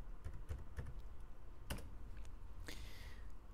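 Typing on a computer keyboard while starting a new drawing in AutoCAD, with several quick separate key clicks followed by a sharper keystroke near the end, recorded close and fairly quiet with no talk.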